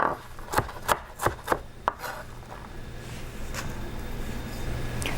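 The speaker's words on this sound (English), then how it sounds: "Let's go ahead and chop some vegetables." A Rada knife chops through green cabbage for a Hawaiian rainbow slaw: about six crisp, evenly spaced chops land on the cutting board in quick succession, then give way to a quieter, steady hiss with faint scraping.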